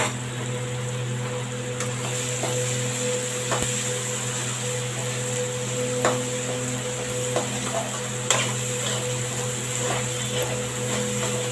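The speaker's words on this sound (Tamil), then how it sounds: "நல்லா வதங்குது." Ginger garlic paste sautéing in a pan for a lake fish curry, a soft steady sizzle close by with a few light clicks of stirring scattered through, fairly quiet and without talk.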